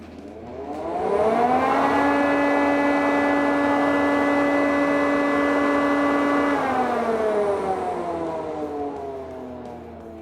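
A Procraft PDC550 centrifugal chip and dust extractor for a woodworking shop spins up with a rising siren-like whine, holds a steady loud tone, then winds down as it is switched off. No speech.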